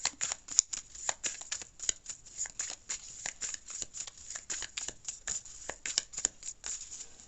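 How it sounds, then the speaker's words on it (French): Tarot cards are picked up and shuffled by hand, giving a rapid, continuous run of crisp flicking riffles, close and fairly quiet, with no talk. "Si j'arrive à prendre mes cartes."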